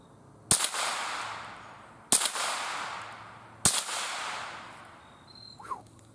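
Marlin Model 60 semi-automatic .22 rifle firing CCI Mini Mag high-velocity hollow point rounds: three loud, sharp outdoor shots spaced about 1.5 seconds apart, each followed by a fading echo, with a faint high whistle near the end.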